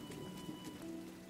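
Steady, soft rainfall in the video game Disney Dreamlight Valley, a quiet even patter with no voices over it.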